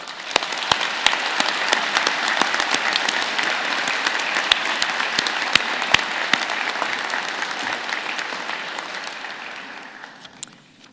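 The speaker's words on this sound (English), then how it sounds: "join me and the platform party in thanking them with a vigorous round of applause" Audience applause fills a university convocation hall for the Dentistry, Law and Pharmacy fall 2023 ceremony, honouring graduates' friends and family. Dense, sustained clapping with sharp individual claps runs for about ten seconds before tapering off.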